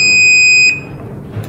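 An aLine AL-HVG rotating laser receiver gives a steady, clear electronic beep that holds for under a second and then cuts off, leaving a faint background hum.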